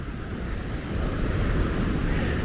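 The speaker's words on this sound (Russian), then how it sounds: "Как вам такой шторм, а?" Storm waves surge and break along a seaside shore, a heavy continuous rumble swelling in loudness, mixed with wind buffeting the microphone.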